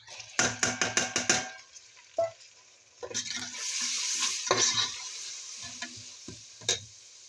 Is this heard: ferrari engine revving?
no